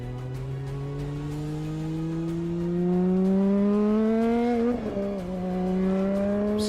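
Race car running on the Top Gear test track, a loud steady engine note climbing as it accelerates, peaking near the close with a brief dip as the driver shifts, then pulling on again.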